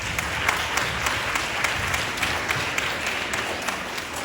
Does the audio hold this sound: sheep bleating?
no